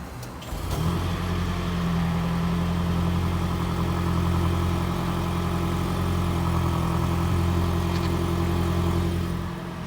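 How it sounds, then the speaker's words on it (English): A 2015 Toyota Prius engine fires up from cold after a second of quiet, then holds a steady, rough idle hum with a faint rattle for the rest of the time. "this is a cold startup on a 2015 Toyota Prius"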